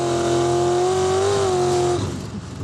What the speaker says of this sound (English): I've never experienced acceleration anything like this